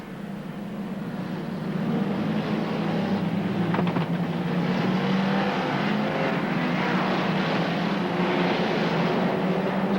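Race cars in a figure 8 race roar continuously around the track, their engines blending into a loud, sustained drone heard from trackside.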